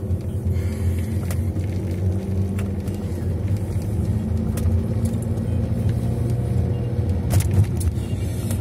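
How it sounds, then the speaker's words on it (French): A passenger car driving along a road, heard from inside with a steady, loud low engine and road rumble throughout, a few faint rattles and ticks on top, and no talking. "on fait un petit tour en roulant"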